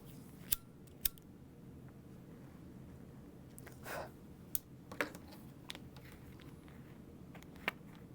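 Scissors cut fabric for a mini backpack at a quiet sewing table, a few sharp, isolated snips spaced irregularly against soft background hiss.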